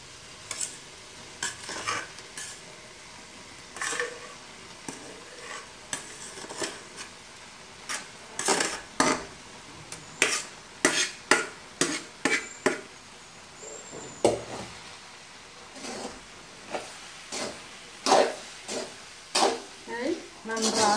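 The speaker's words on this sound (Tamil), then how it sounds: "வடித்த சாதத்தை போட்டு சுரட்டி எடுக்க வேண்டும்" Cooked rice being stirred into a tomato mixture in a pan for tomato rice, with repeated scraping strokes of a spoon against the pan over a faint sizzle, close and rhythmic and without speech.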